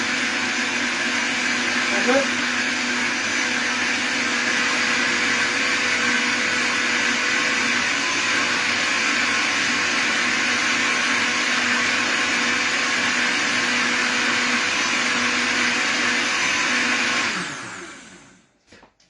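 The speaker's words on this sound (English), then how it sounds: "blender's a bit noisy, I know" A blender blending sweet potato, chilli and coconut soup whirs continuously at high speed, loud and steady, then winds down abruptly at the very end.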